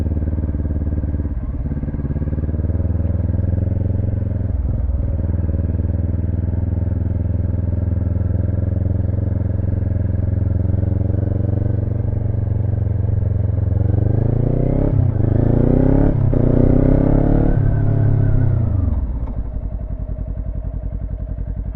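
Motorcycle ridden through slow beginner drills, a close steady engine drone at low speed with small throttle blips, rising into louder revving and gear changes before settling back down.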